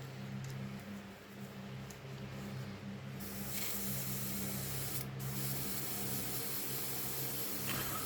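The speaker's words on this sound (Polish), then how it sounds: "Jeszcze dla pewności wypsikuję teraz farbą Hataki pozostałości po Amo." An airbrush sprays Hataka Red series Ocean Grey scale-model paint with a steady close hiss over a low compressor hum, growing louder midway and briefly interrupted.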